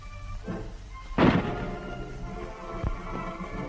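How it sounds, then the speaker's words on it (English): A WWII Japanese machine gun is cocked by hand, its cocking handle drawn back as far as it goes, giving a sharp metallic clack followed by a lighter click a moment later, close up and without speech. "The weapon is cocked by pulling back on the cocking handle as far as it'll go."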